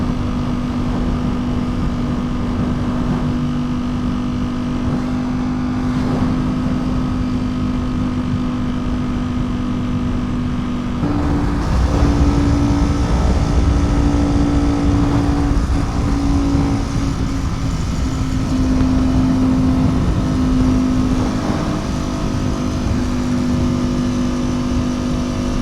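Ducati V4 Superleggera motorcycle riding at speed, a loud, steady engine drone with rushing wind, the tone lifting and shifting partway through as the throttle changes, heard close up.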